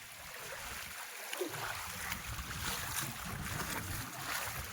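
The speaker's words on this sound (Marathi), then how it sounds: "वाहत पाणी किती भारी" Stream water flows over stones in a farm field, a quiet, even rushing wash with no clear pauses and no voices.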